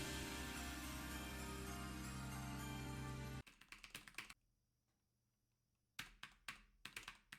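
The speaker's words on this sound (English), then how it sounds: "It's actually someone just tapping on the keyboard." Someone tapping on a computer keyboard: after a loud stretch of sound, clusters of sharp close key clicks come in short bursts separated by a quiet pause.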